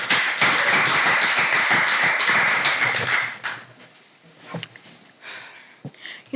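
A school debate audience claps for the debaters, a dense burst of applause lasting about three seconds, then trailing off into a few scattered claps and quiet room noise.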